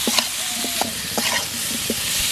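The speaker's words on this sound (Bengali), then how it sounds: "আবার একটু নেড়ে চেড়ে নেব" Pumpkin and fried potatoes with turmeric and salt are stirred in a pan. A loud, steady sizzle runs throughout, with a series of spaced spoon knocks and scrapes nearby.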